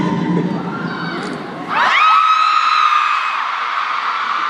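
A concert audience at a reunion show screams and shouts in a sudden loud surge that swells after a quieter stretch of crowd noise and then holds high and sustained.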